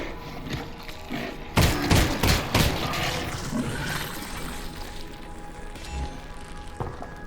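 Pistol fire in Half-Life: Alyx, a few sharp close shots bunched in quick succession against a steady game backdrop, with no voices over them.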